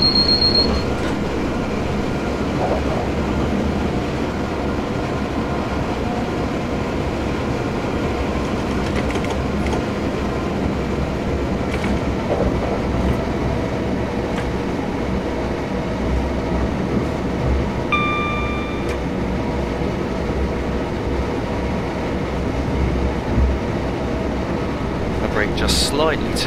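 Train running through Clayton Tunnel on the London to Brighton line in Train Simulator 2015, a steady rumbling roll of wheels on track with occasional faint squeals, continuous and close, while someone talks over it.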